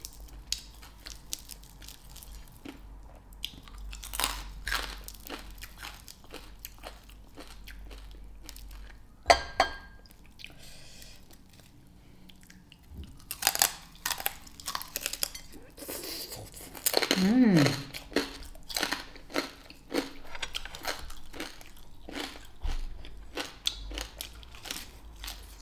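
Crispy roast pork skin crunches as it is bitten and chewed, with several crackly, crinkling bursts scattered through the middle of the clip. The crunching sits close to the mic, with speech around it.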